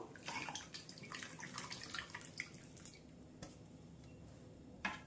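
Grapes tipped into a bowl of salt water to soak, giving a burst of splashing and dripping water with clinking against the bowl, loudest in the first three seconds, then quieter trickles and a final splash.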